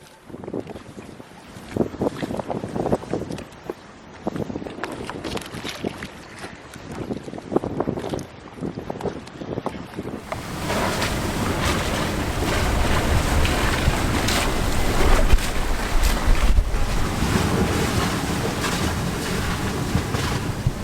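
Sailboat on a close reach in strong wind between Virgin Gorda and Anegada, with uneven rustles and knocks first, then a loud steady rush of wind and water against the hull.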